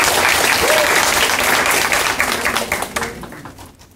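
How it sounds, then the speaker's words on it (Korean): Applause from an audience at a youth political-participation debate forum. Dense, loud clapping holds steady, then thins out and fades over the last second. "훌륭한 토론을 해주신 김유성 위원님께 다시 한번 큰 박수 부탁드립니다."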